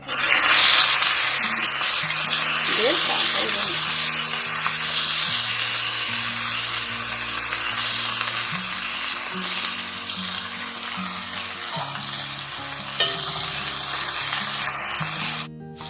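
Chopped onion for a Bengali bhola fish curry sizzles loudly in hot oil with a dense, close, continuous hiss, and music plays quietly beneath it.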